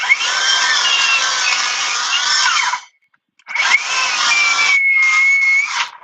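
A 36-volt cordless power tool whines loudly up close, its motor pitch sagging under load as it bogs, then stops briefly before revving back up for another straining run.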